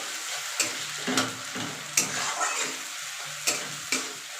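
Chopped onions frying in hot oil give a steady sizzle, broken by regular scraping stirs of a spatula in the pan.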